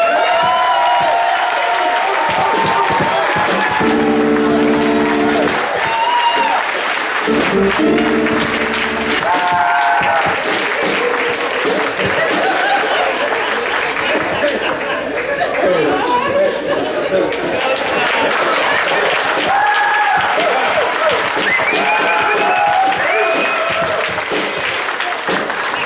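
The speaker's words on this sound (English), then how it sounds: "I want y'all to give a round of applause for Kalani Hancock." Young people at a lively community youth celebration draw sustained applause and cheering from a packed room, a dense, loud, continuous roar of clapping and voices with chatter and talk mixed in throughout.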